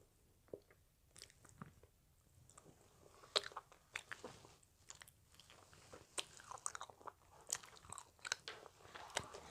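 Close, quiet chewing of an Earth Jelly, a round planet-shaped gummy candy with a grape-flavored jam center, with soft squishy bites and wet crunchy mastication sounds in an irregular rhythm throughout, no talking.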